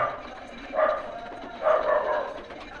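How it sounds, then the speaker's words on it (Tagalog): Two separate dog barks, close and moderately loud, separated by a short pause over a quiet background. "tahol na tahol"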